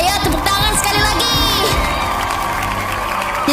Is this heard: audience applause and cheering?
yes